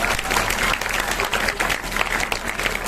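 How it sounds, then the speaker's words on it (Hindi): Loud, sustained applause from an audience at a school Eid-e-Milad children's event in Bhusawal, dense steady clapping filling the whole stretch without a break. "जब तक आपकी तालियां जोर से बजेंगी बच्ची का नाम डिक्लेयर नहीं करूंगा मैं।"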